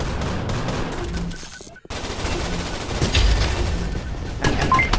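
Shotguns fire in the video game Gun Raid amid steady gunfire and battle noise, with several louder blasts late in the sequence.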